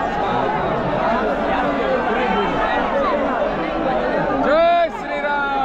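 A large crowd gathered at Ram Janmabhoomi in Ayodhya, a steady dense babble of many voices and chatter throughout, with a louder rising voice near the end.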